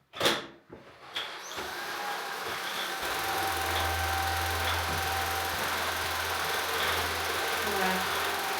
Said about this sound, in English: And then a hoover.